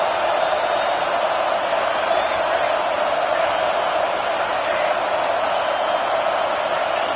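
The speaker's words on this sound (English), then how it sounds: "And the crowd really making some noise now" Stadium crowd roaring at a college football game as the defense tries for a stop near the goal line, a loud, steady, unbroken wall of cheering from far and wide.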